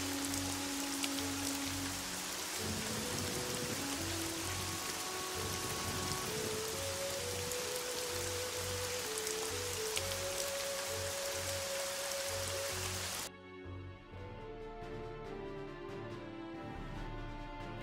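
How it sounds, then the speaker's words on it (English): Heavy rain in the video game Evoland II pours steadily and loudly on a surface, with a soft tonal hum beneath it, then cuts abruptly to a quieter background near the end. "the rain is actually very, very loud"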